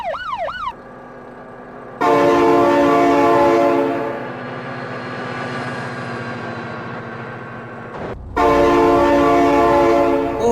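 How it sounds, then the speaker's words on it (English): A train horn in the BeamNG driving game blares in long, loud, steady blasts, cutting off and returning twice. A brief siren-like wail comes at the start. "Oh my god, train!"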